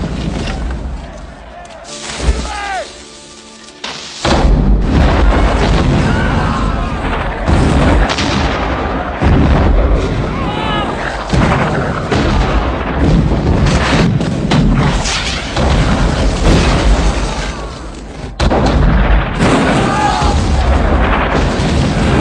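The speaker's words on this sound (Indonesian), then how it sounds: "Meriam-meriam raksasa mereka mulai ditembakkan untuk menghancurkan" Giant French cannons fire to destroy a fort in a film battle scene, a series of loud, booming blasts and rumbling explosions spread across the stretch, with a narrating voice talking over them.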